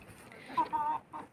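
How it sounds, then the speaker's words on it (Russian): Chickens and young roosters in a coop give a few soft, short clucks and a drawn-out call over quiet background noise. "Подрастают петушки, а гоняет петуха."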